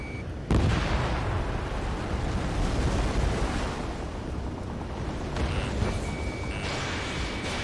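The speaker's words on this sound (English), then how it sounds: "Missile launched." A missile launching and exploding in a flight combat game, a sudden loud whoosh-blast followed by a sustained roaring rumble, with a faint steady warning tone appearing later.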